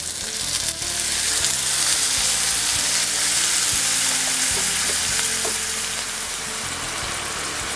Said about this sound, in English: I'm going to deglaze my pan with a tablespoon of apple cider that I just picked up from my farm stand.